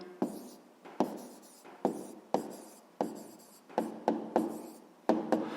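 Pen strokes on paper while an answer about a bakery's daily output of 80 cakes is written down, about a dozen quick scratchy marks in an uneven rhythm, close and clear with no talking.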